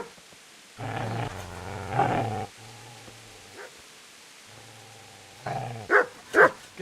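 A dog barks and growls in a video game, several harsh low bursts between quieter stretches, with two sharper yelps near the end; moderately loud and close.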